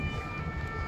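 A police siren wails near the Eiffel Tower in Paris on a drizzly day, a loud sustained tone that holds steady over traffic rumble for about a second.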